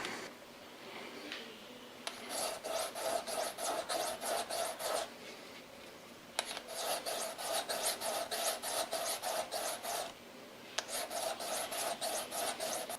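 A sharpening stone rasps back and forth over the over-travel pad of a Beretta 92FS trigger in three close bursts of rapid, even strokes with short pauses between them.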